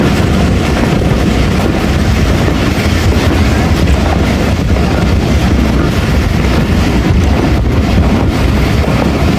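The Rahman Baba Express rolls past Buddhu railway station on the Attock–Rawalpindi line, a steady loud rumble of wheels and rushing wind noise throughout, with no voices.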